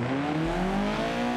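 A car engine in BeamNG.drive revving with a steadily rising pitch, loud and close, heard alone for a moment.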